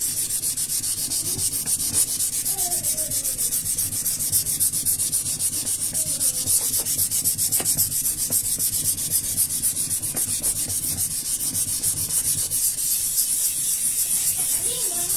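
An ordinary chondrite meteorite is hand-sanded with 500 grit abrasive, a steady, continuous gritty scraping and rubbing that holds at an even, close level for about fifteen seconds with no speech.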